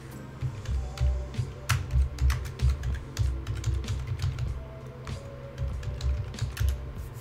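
Keys clatter on a computer keyboard as a command is typed in, a close run of quick, uneven clicks with brief pauses, with no one talking.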